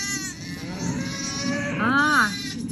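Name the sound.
cow mooing at a farm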